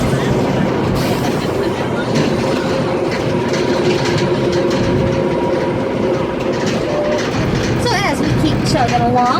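Safari park tour train at Six Flags chugging along, a steady rumble and clickety-clack of the cars running close throughout.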